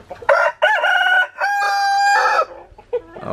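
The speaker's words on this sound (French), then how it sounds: "L'alarme c'est directement le coq. 5h du matin, il chante." A rooster crows loudly nearby at 5 a.m., a long strained cock-a-doodle-doo followed by a few short clucks.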